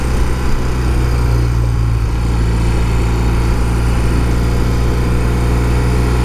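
A 1971 BMW R60/5 motorcycle, fully restored, running on its electric start: a steady, loud, low engine drone with a continuous rumble, close by and unbroken, with no voices.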